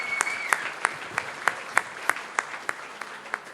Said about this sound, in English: I think it should get a round of applause once more